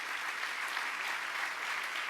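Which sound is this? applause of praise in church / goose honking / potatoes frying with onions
applause of praise in church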